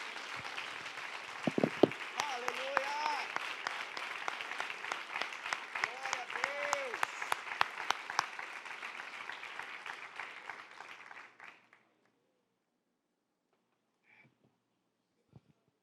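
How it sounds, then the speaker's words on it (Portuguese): Strong clapping from a church congregation during a late-night Quadrangular service, sustained for about eleven seconds with a voice speaking over it, then cutting off abruptly into near silence. "Se vai aplaudir, aplauda forte."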